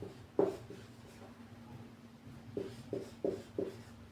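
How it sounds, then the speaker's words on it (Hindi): Pen or marker writing a heading by hand on a board or page during a physics lesson: soft scratchy strokes, one near 0.4 s and a quick cluster later, close and faint with no talk. "हेडिंग का नाम फटाक से लिखते हैं"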